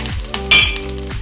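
Mild and hot green chillies dropped into a hot pan with curry leaves for farali batata bhaji, giving a short burst of close sizzling and frying, with a faint clink of utensils.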